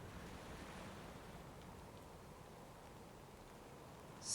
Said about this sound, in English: Water crashes louder now against the hull.